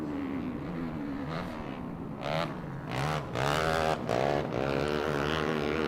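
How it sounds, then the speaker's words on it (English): Modified kart engines whine and rev hard at high speed on the Great American Short Course at King of the Hammers, pitch rising and falling as the karts shift and pass one after another. "These cars are so fast."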